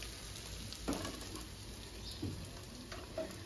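An egg frying in a pan on a gas stove, a soft steady sizzle with a few spatula scrapes and taps, quiet and close.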